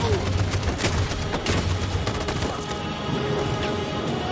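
Gunfire from an assault in Detroit: Become Human, a dense, continuous crackle of rapid shots and bursts at a steady level, with a few louder reports.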